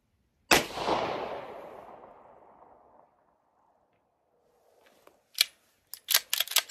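A single sharp gunshot from an Atlas Gunworks Artemis pistol cracks close by and rings out in a long fading echo, followed by a few small metallic clicks.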